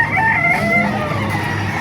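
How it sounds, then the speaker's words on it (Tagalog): A rooster crows loudly and close, one drawn-out call over a noisy background with other birds, at a chicken market in Baliuag, Philippines. "Ganda ng mga manok oh."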